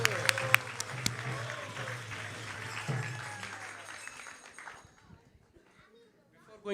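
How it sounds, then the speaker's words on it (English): A crowd claps in sustained applause at a Hare Krishna Sunday feast class, fading out toward the end, with a few voices mixed in. "let's give a big round of applause to all of them"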